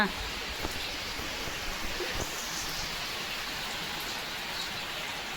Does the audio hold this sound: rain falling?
yes